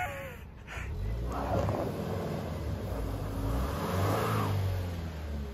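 Car engine revving while towing a shed across a grassy yard, a close mid-pitched strain that climbs and holds steadily for several seconds, with wind buffeting and no clear talk.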